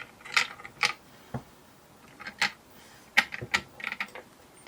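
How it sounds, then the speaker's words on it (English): Mounting screws being tightened in a cross pattern while fitting a D-Tap power plate to an M-Lite REVO light, heard as a series of short, close ratcheting clicks in uneven bursts with brief pauses between them. "We're gonna tighten in a cross pattern."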